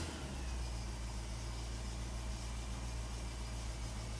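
A 1985 Toyota pickup engine runs at a steady, loud idle after seven years of sitting, its continuous rumble filling the whole stretch without a break.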